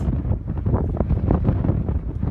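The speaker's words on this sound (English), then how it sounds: "But it's really windy." Strong gusting wind buffets the microphone in a steady, roaring rush with surging peaks, loud and close, while ice pelts down at an exposed winter campsite.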